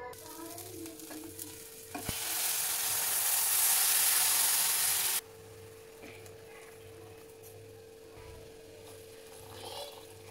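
Caramel yakhni for beef Kabuli pulao being stirred in a pot, with a loud burst of hissing sizzle for a few seconds followed by quieter stirring and faint kitchen sounds.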